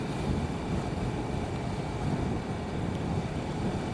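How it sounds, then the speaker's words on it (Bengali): Cool wind sweeps along the Jamuna riverbank, buffeting the microphone with a continuous low rumble and a broad steady rush. "ঠান্ডা বাতাস, ভালো লাগতেছে।"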